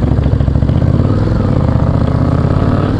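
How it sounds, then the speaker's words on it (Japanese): A motorcycle engine idles steadily, close and loud, with an even low throbbing pulse and light mechanical clatter that holds constant throughout and has no revving. "アイドリングやっぱ安定してますね。"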